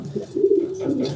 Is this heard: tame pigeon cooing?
yes